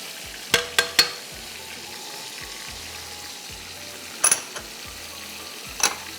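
Chopped ginger, fennel seeds and whole cumin sizzle in hot oil in a pan, a steady low frying hiss broken by a few sharp clinks of a spoon against the pan.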